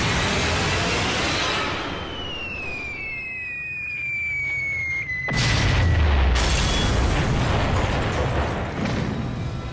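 Bombs explode on a rail yard during a 1942 bombing raid: a whistling descent fades, then a sudden heavy, rumbling blast erupts and a long, loud roar of explosions continues.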